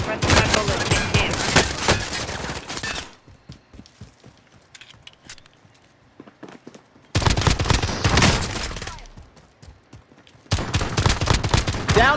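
Pistol shots in a video game firefight, dense bursts of rapid gunfire in two loud stretches, with a quieter gap of scattered shots between them and another burst at the end.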